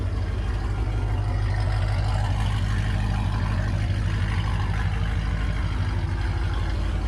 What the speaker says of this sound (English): I'm going to show you guys an exhaust clip right here.